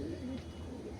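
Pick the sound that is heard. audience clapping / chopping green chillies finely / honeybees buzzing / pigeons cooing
pigeons cooing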